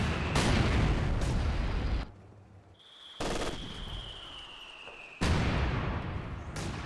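Artillery shells fire and land in a Company of Heroes 2 battle: heavy rumbling blasts in separate bursts with a quieter gap between them and a thin high whine, no voices.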